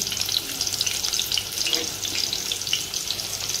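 Onions and green chilies fry in hot oil in a cooking pot, a steady crackling sizzle that holds evenly throughout at moderate loudness with no talking.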